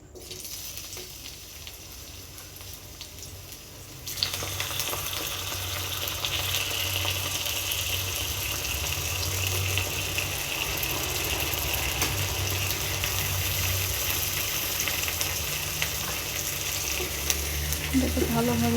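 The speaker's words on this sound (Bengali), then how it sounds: "এটাকে ভালোভাবে ভেজে নেব।" Bay leaves, onion, green chili and tomato fry in hot oil, a steady loud sizzle with occasional stirring scrapes that swells after the first few seconds and continues without talk.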